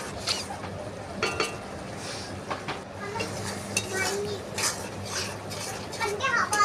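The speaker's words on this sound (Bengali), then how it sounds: "একটু সামান্য জল দিয়ে মশলাটাকে কষিয়ে নিচ্ছি।" Spice paste stir-fried with a splash of water in a pan for a Bengali prawn pulao, with scraping and clinking of a spoon against the pan over a low sizzle and steady background hum.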